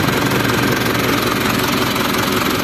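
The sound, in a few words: Isuzu 4HF1 engine running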